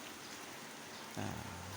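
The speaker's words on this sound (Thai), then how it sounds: "เดี๋ยวนี้ก็ยังฝนตกอยู่ครับ" Steady rain falling in Ban Dung district, Thailand, a faint, even hiss of drops throughout, with a slightly louder, heavier patch near the end and no voices.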